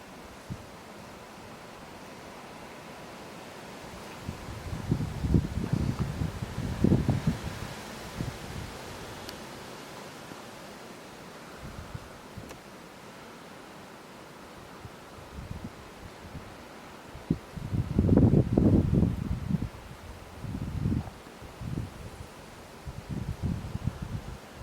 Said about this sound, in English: It's very windy this morning, so everything's hiding away.